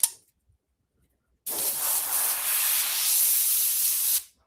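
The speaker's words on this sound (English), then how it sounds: "Okay, Airbrush is having a hissy fit." An airbrush sprays paint for zombie artwork, a steady loud hiss of pressurized air that starts abruptly after silence, holds for about three seconds, then cuts off.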